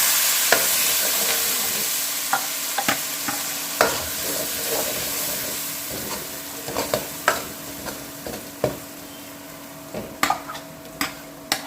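Tamarind fish curry bubbling and sizzling steadily in hot oil in a pan, a continuous fry hiss broken by scattered sharp pops and ticks, close and fairly loud with no talking.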